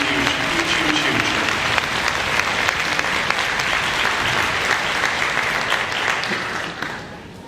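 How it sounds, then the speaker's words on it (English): Sustained, dense audience applause fills a concert hall after a middle school symphonic band performance at the 2025 SCSBOA All-Southern concert, steady and loud before thinning slightly at the end. "Round of applause for Susan and all the team that makes this whole weekend happen"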